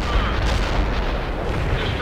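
Artillery fire in the real-time strategy game World in Conflict, dense rumbling booms and blasts rolling continuously and loudly across the short stretch of battle.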